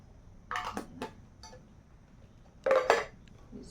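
A steel spoon, part of a child's tiffin set, handled and clinking against other metal in a few short, bright knocks, with a louder cluster of clinks near the end and quiet pauses between.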